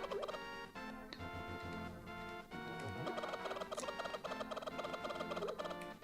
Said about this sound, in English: Oh, you hit the fucking chicken, dude.